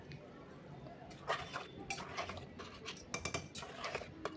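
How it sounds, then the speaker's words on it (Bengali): Ingredients being mixed in a cooking pot with hot water and crushed kasuri methi, giving scattered metallic clinks and scrapes of a spoon against the pot, clustered in short bursts over a low background hum. "ভালো করে মিশিয়ে নিচ্ছি।"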